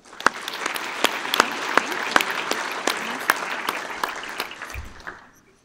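An audience at an NHRA North Central Division drag racing awards ceremony gives member tracks a round of applause: dense, sustained clapping from a sizable indoor crowd with sharp individual claps standing out, tapering off quickly at the end.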